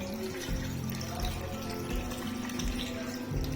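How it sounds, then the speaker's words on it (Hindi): Water is poured steadily into a mixing bowl holding deeply scored chicken pieces soaking for a steam roast, a continuous close splashing and filling sound with a faint voice underneath. "इसमें मैं इतना पानी डाल दूंगी कि ये इसमें डिप हो जाए"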